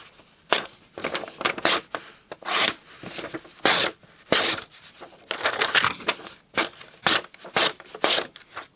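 A Spyderco ATR knife slices through material in a run of short, crisp rasping strokes, about a dozen separate cuts at an uneven rhythm, close and clear with quiet gaps between.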